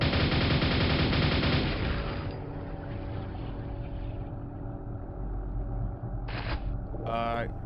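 Rapid nail gun fire in Quake, a dense mechanical stream of shots that runs loud for a couple of seconds, then fades into ambient game noise with a few short sharp effects near the end.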